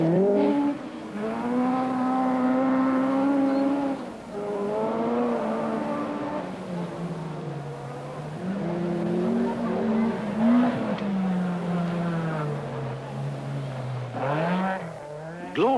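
An Audi rally car on a stage of the 1979 Lombard RAC Rally, its engine note rising and falling loudly through gear changes as it passes close by, sustained for the whole stretch.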